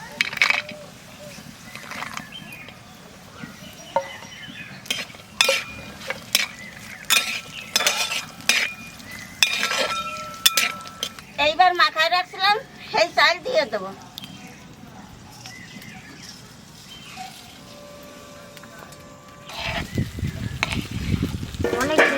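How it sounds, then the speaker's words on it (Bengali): Cashews and raisins dropped into hot oil with cloves, cinnamon, cardamom and bay leaves for a Bengali pulao, giving crackling sizzle, stirring and metal utensil clinks, with a voice talking over it. "ফোড়নে দেব লং দারচিনি এলাচ আর কটা তেজপাতা এইবার দেবো কাজু বাদাম আর কিশমিশ"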